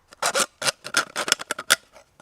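A Lee Valley pocket saw cuts around a plastic bottle in quick, close, uneven bursts of rasping strokes separated by short pauses.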